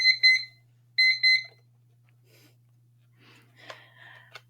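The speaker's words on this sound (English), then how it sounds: "This is my timer that I've recently got, which I love, called the time timer." A Time Timer alarm goes off in two quick bursts of bright, rapid electronic beeps, then falls silent except for faint breathing and soft rustling nearby.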